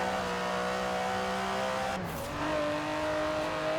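Engine of an Aston Martin DB11 with a 5.2-litre twin-turbo V12, driven in the racing game Forza Horizon 4, drones steadily at high speed, dipping briefly during a gear change before climbing again, loud and close with no talk.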